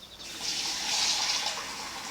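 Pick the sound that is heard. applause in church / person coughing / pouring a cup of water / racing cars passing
pouring a cup of water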